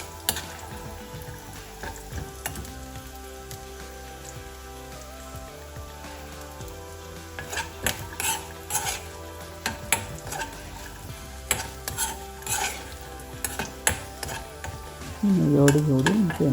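Roasted cashews sautéing in ghee for cherupayar parippu payasam, a soft steady sizzle with scraping and stirring clicks throughout, growing busier near the end.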